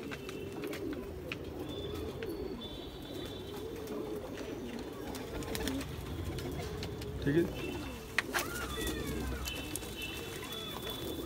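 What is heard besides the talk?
golden pigeons cooing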